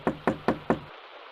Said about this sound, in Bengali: দরজার উপরে ধাক্কাও থামল না